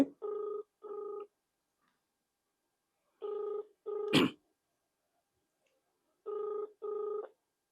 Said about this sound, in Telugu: రింగ్ అవుతా ఉన్నది.